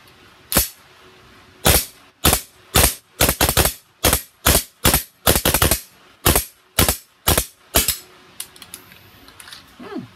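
A King Arms 1911 Kimber stainless steel airsoft pistol fired on green gas, about fifteen sharp, loud cracks in a fairly steady rhythm, each with a brief slide snap, then a clatter and a few faint knocks after the shooting stops.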